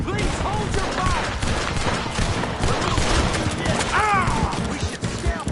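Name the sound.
gunfire in video game Red Dead Redemption 2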